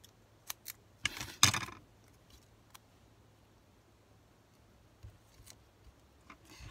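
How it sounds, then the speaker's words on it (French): Scissors snip a few times close by, with a brief cluster of cutting clicks early on and isolated snips later in a quiet room. "Mon ciseau."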